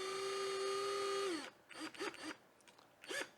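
21V cordless drill driver whirring steadily for over a second, then winding down, followed by a few short trigger bursts spinning up and stopping, close and clear in a quiet room.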